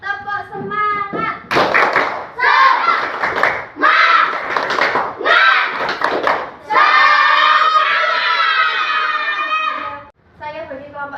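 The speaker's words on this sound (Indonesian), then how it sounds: "Tepuk semangat." Children in a classroom chant together and clap in a quick rhythmic pattern of loud group claps, with a teacher's voice between rounds and near voices throughout.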